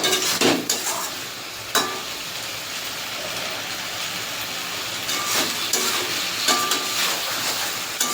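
Kochur loti curry with poppy seeds, coconut and shrimp being stirred in a pan, a steady sizzling hiss broken by a few louder scraping strokes, close and alone with no talk.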